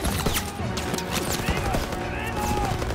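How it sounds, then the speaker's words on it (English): Gunfire crackles through a World War II battle in Call of Duty: WW2, rapid overlapping shots and impacts filling the scene under shouted soldier voices. "Come on, they need cover fire!"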